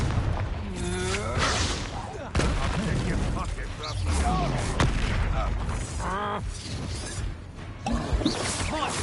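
Repeated Confringo blasting-spell explosions from the video game Hogwarts Legacy, loud booming bursts and crashes through a busy battle mix, with voices talking over the action.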